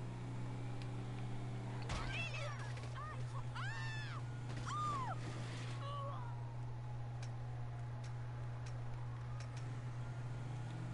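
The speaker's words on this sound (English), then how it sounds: "Did you hear that little scream?" A short, high-pitched cry rises and falls a few times over a steady low engine hum, with brief voice-like sounds amid the game noise.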